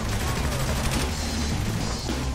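Dense gunfire rattles in a shootout in the video game Saints Row: The Third, a continuous loud barrage of overlapping shots and impacts with no clear gaps.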